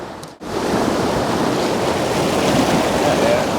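Ocean waves surge and wash around beach rocks in a loud, continuous roar of churning water after a brief dip at the start, with wind buffeting the microphone.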